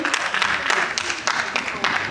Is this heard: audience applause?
yes